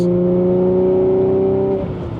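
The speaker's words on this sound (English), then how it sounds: "I'll go ahead and get a couple downshifts here" A 2016 Audi S5 B8.5 with 100k miles holds a steady engine drone while downshifting under moderate throttle, the tone sliding and dropping near the end as the gear changes, heard from inside the cabin.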